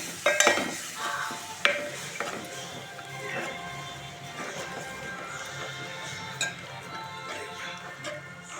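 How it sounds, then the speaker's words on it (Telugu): A spoon stirs yogurt into a cashew and almond puree frying in a pan for mutton kofta curry, giving soft scraping and clinking with a light sizzle underneath and a few sharper knocks against the pan. "పెరుగు వేయంగానే మంచిగా కలపండి, లేకపోతే పెరుగు విరిగిపోతుంది."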